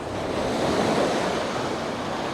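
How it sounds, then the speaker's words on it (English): Ocean surf washes steadily onto a beach, a continuous loud rushing roar with some wind noise across the microphone and no speech. "The surf really did come in and it was threatening to wash over my bag."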